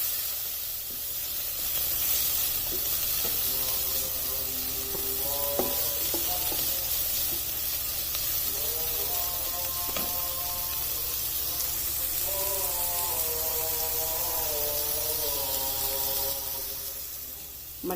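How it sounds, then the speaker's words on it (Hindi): Peas cook in a hot pan with a soft, steady sizzle and hiss, a quiet frying bed joined by faint scraping and stirring taps, with brief tonal clinks scattered through. "अब इन मटरों को भी इसमें 1 से 2 मिनट तक ही कुक करना है।"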